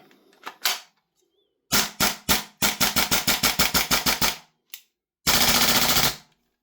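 Salvo BRN-180 gas blowback airsoft rifle firing full auto: a couple of early single pops, then a short burst, a long rapid rattling string of shots, one lone shot and a final dense burst ending in a hiss of gas, loud and close.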